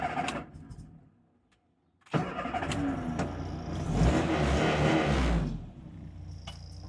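An already warmed-up car engine cranks and catches after a short pause, revs briefly, then settles into a steady, fairly loud idle.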